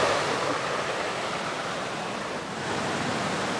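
A waterfall roars from close range at a gorge in Bungo-Ono, Japan, a dense, continuous rush of falling water that holds steady throughout with no voices over it.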